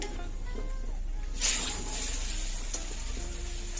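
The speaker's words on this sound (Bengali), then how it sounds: "ওই তেলেতে একটু কালো জিরে ফোড়ন দিলাম" Nigella seeds (kalo jeere) tempering in hot oil for a Bengali ilish fish curry, a fine steady sizzle with a sharp crackling burst as the seeds hit the oil, settling back to a soft fry.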